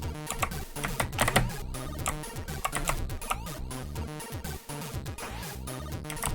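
Computer keyboard keys clatter in rapid, irregular bursts as a ZX Evolution game runs on a MiSTer FPGA, with quick clicks and presses tumbling over one another, close and fairly quiet.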